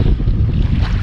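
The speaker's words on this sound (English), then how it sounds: "Man, that wind." Strong wind buffeting a microphone on a kayak out on choppy water while jug fishing for catfish, a loud, constant low rumble with gusty fluctuations and no talking.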